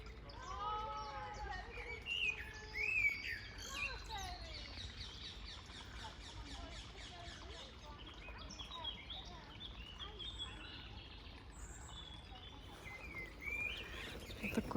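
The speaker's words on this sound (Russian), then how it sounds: "сильное пение птиц, разноголосие такое, журчание ручейков в маленькой речке." Birds singing in Richmond Park beside the Thames, many overlapping chirps and calls from several birds over a soft low background of running water, moderately faint and continuous, with some quiet speech mixed in.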